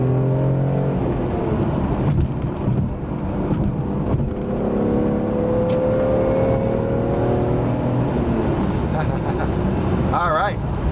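A BMW E46 M3 pulls hard under acceleration, its engine note climbing steadily through the rev range with a steady loud drone and rising pitch, heard from inside the car while a voice talks over it.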